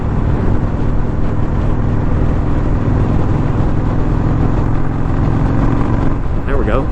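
A 2021 Indian Scout Bobber with stock exhaust pipes drones steadily at cruising speed, its loud, constant engine hum blended with rushing wind and road noise from the rider's position.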